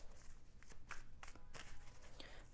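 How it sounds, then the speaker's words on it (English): Tarot cards are shuffled by hand in quick, soft riffling bursts, a series of papery flicks and slides at low volume, close by, with no talking. "Few more shuffles."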